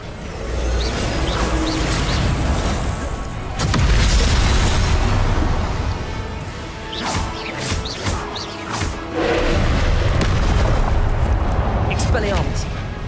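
Confringo spell blasts in Hogwarts Legacy during a trial mission battle, bursting repeatedly as booming, whooshing explosions mixed with combat effects and a clamor of noise, with bursts of dense energy returning every few seconds.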